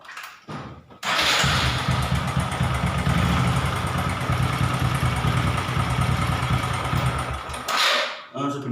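Honda Karisma 125 motorcycle engine cranks and catches after a brief start, then idles steadily and loudly for several seconds before cutting out.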